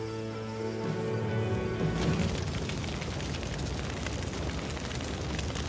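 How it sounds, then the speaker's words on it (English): Fire set in a video game bursts into a rumbling whoosh after a brief tonal hum, then a steady crackling roar of flames that holds at moderate loudness. "set the rest of it on fire"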